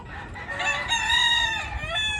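Tethered roosters crow in a backyard chicken pen, one loud, close cock-a-doodle-doo rising and trailing off over a couple of seconds, with no voices.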